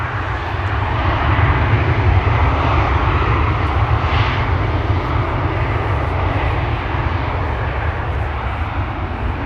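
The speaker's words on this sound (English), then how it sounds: "This is the Cathay Pacific A350-1000 that will be taking off via this runway in a few moments from now" A Cathay Pacific Airbus A350-1000 departs from a runway at Schiphol Airport with a loud, steady jet roar that holds strongly across the whole stretch.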